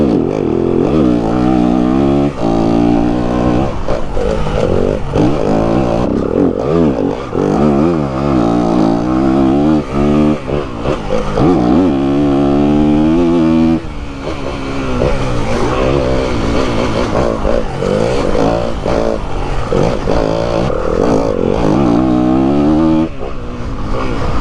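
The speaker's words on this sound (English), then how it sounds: "Right, now I'm on a bike with a full Acra system on." A 2022 Yamaha WR250F dirt bike with a full Akrapovic exhaust rides close and loud, its engine revving up and down in repeated surges with a raspy, sustained roar throughout.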